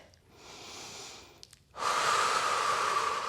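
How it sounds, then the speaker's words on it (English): Slow, audible breaths during a Pilates workout: a soft inhale through the nose, a brief pause, then a stronger, breathy exhale through the mouth, close and clear with no speech. "Breathing in through the nose and out through the mouth."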